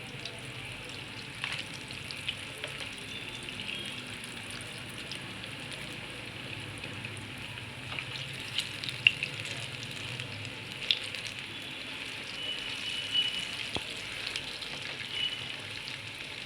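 Falafel (taameya) patties frying in hot oil, a steady soft sizzle with faint crackling pops running throughout, fairly quiet and continuous with no voices.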